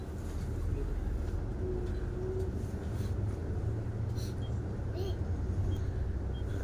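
Interior of a moving bus in Al-Ula, a steady low engine and road rumble filling the cabin throughout, with faint muffled voices and small rattles above it.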